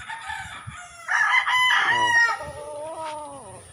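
A rooster crows loud and close in a small chicken pen, one long drawn-out call with a rising start and a falling tail, over faint background noise.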